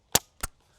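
Two sharp, close airsoft gun shots snap out a quarter second apart, each a crisp crack followed by quick silence.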